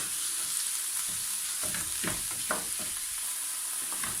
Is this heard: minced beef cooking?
yes